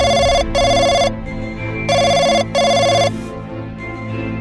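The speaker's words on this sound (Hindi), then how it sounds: "इधर गुल्ली बुल्ली कंप्यूटर पर हॉरर वीडियोस देख रहे थे और तभी इनका टेलीफोन बजने लगता है।" A cartoon telephone rings in two bursts of rapid double trills, loud and close, with short pauses between rings and low background music underneath.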